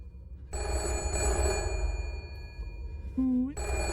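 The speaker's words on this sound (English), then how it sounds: "Somebody better answer that phone." An old-style telephone bell rings in a spooky Halloween game, a bright metallic jangle repeating close and fairly loud, cutting off briefly before ringing again, with a low rumbling background.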